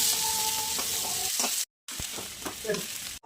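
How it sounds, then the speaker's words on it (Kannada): Onions fry in a pan with dried red chillies, mustard seeds and curry leaves, a bright crackling sizzle with a few stirring scrapes, broken by a brief silent gap midway. "ಸ್ವಲ್ಪ ನೀರುಳ್ಳಿ ಚೆನ್ನಾಗಿ ಫ್ರೈ ಮಾಡುವ"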